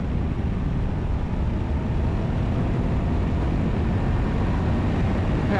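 A BMW F850GS motorcycle accelerates in fifth gear, its engine a steady broadband drone blended with heavy wind rush, loud and continuous without a break and with no voices.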